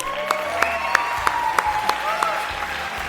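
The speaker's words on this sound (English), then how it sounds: "And let's give the seniors one more round of applause." Audience applause fills a senior class dinner program, steady clapping from a roomful of guests with a few sharper claps standing out near the front, while a voice briefly speaks over it.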